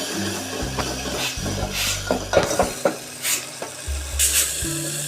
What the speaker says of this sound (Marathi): आता मी याचा मसाला भाजून घेणार.